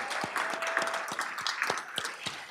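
Audience at a school scholar-athlete recognition ceremony claps for families and caretakers; moderately quiet applause with scattered sharper claps, steady for a couple of seconds.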